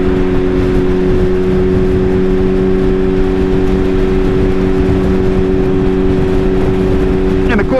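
A Suzuki Hayabusa sport motorcycle rides on a winter road with snow on the ground. Its engine holds a loud, steady drone close by, with wind noise throughout and a brief rising rev at the end.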